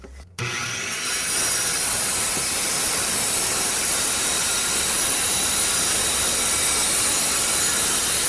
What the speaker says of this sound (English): We're going to begin with this regular circular saw.